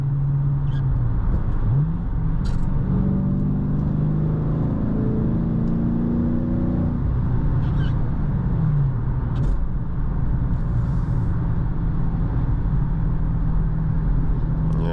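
A Dodge Challenger Scat Pack Shaker's V8 engine hums and surges loudly through a steady drive in morning traffic, with a couple of rising rev swells over its continuous low rumble.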